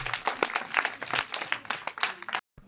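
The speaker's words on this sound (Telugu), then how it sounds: "క్లాప్స్ కొట్టండి." Children at a vacation Bible school function clap together in a lively, uneven burst of hand claps that runs steadily before cutting off abruptly into silence.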